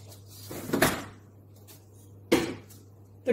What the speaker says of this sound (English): Pop that back in the fridge.